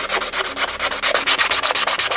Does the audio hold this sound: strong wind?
no